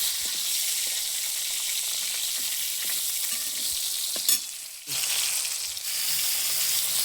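Cumin, chili and tomato fry in an oiled pan, giving a steady close sizzle with light stirring scrapes, a brief sharp clatter near the end, then the frying continues.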